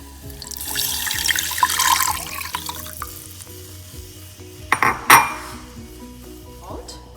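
Water splashes and pours into a pan in a kitchen, with clinks of metal utensils and a loud clatter near the end.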